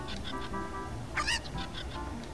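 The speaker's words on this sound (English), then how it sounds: "I'm gonna throw these cuckoos into that there gaggle of normal cuckoos." Cuckoo chickens in The Legend of Zelda: Ocarina of Time give short game clucks over steady background music, with one brighter, louder squawk near the middle.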